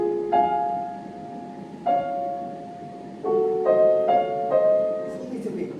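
Piano notes and chords struck one after another with pauses between, each attack sharp and bright, giving a hard, somewhat clanky tone.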